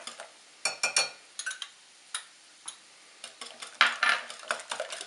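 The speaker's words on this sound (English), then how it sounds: "And just whisk that in." A whisk beating melted butter into eggs in a bowl gives off light, irregular metallic clicks and taps in quick clusters, fairly close and quiet, with no talking.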